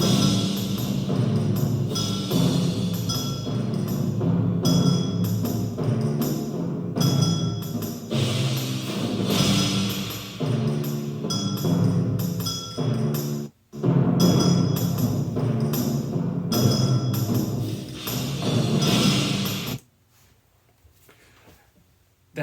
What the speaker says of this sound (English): the theme is actually played by timpani.